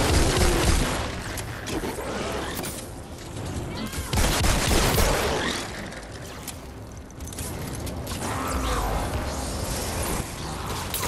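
Rapid bursts of SMG fire in Fortnite played on PS4, with repeated rattling volleys and crashing impacts across a busy battle, under occasional voices.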